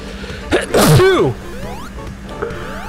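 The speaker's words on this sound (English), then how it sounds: "Nose is itchy, sneezing." A single loud sneeze bursts out abruptly near the microphone, followed by quieter cartoonish sound effects from a Sonic Superstars game playing in the background.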